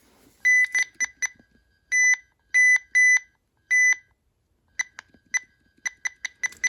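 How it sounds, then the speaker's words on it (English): A beige 2004 RadioShack 12-259 clock gives button beeps, clusters of bright electronic tones in short bursts, some long and slow and others rapid and clipped, separated by near silence. "Even if the button beeps are long and slow, you can still press the buttons faster"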